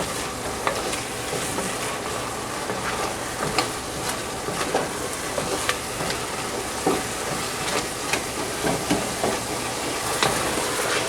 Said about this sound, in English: So we're sauteing it together till it all gets nice and soft.